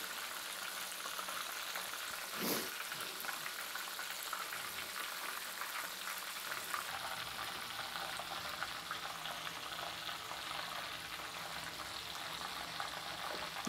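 Bull testicles frying in a pan give off a continuous crackling sizzle with a brief louder burst early on, steady and fairly close, with no talking.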